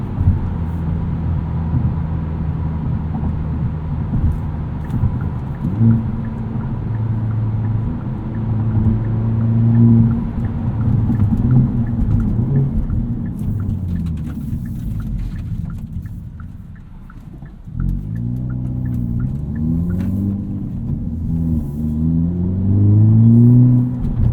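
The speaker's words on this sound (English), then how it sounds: "You can put the exhaust into sport mode, and it's just sonorous, nice smooth tone" A 2022 Hyundai Elantra N exhaust in sport mode rumbles deeply, rising and falling as the engine revs, with a smooth, throaty tone that swells louder near the end.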